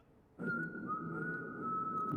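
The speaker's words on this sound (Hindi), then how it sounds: "सीटी बजा रहा है।" A person whistles a single sustained note that starts abruptly, holds steady, then slides slightly higher, loud and close with no talk.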